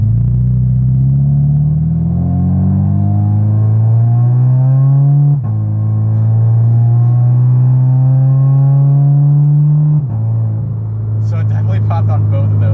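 A modified Subaru BRZ accelerates at half throttle through two upshifts, its engine note rising steadily in loud, close pitch sweeps with brief dips at each shift, followed by sharp crackling exhaust pops at the end.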